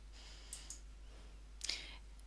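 Two sets of soft, faint mouse clicks on an add-page button, a pair near the start and another pair about a second later, each crisp and brief against near silence.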